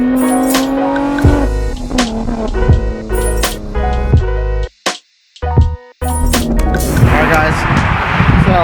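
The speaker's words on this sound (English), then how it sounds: "we're going to do a couple revs, a couple launches and flybys" Modified BMW G80 M3 with manual gearbox revving hard and launching, loud close engine tones rising and falling with sharp throttle blips, a brief cut to near silence mid-way, then a roaring launch with tire noise.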